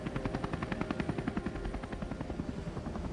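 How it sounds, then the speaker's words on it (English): A helicopter hovers low over open water during astronaut splashdown recovery training, its rotor beating in a steady, rapid rhythmic thump throughout, loud and close with no voices. "rehearsing helicopter recovery from the water's surface"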